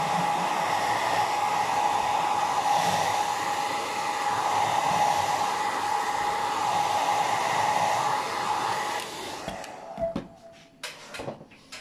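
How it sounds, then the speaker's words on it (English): A hairdryer blows steadily and close while drying a painted bottle, a constant whirring hum that cuts off near the end, followed by a few light knocks and handling clatters. "I'm going to just dry with the hairdryer"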